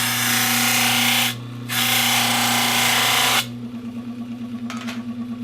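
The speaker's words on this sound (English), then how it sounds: "I'm going to set up next to the polisher." Polishing wheel spinning against an LCD part, a loud steady motor whine with a strong hum. It dips briefly, comes back at full strength, then drops to a quieter pulsing run as the part meets the wheel.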